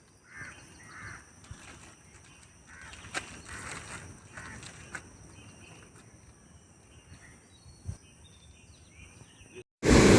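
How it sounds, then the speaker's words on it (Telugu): Birds call and chirp on and off in the pre-dawn dark over a quiet background of insects, with a few sharp caws and knocks nearby. "ఎంత చక్కగా చీకటిలో పక్షులు కిలకిల రావాలని చేస్తుంటే"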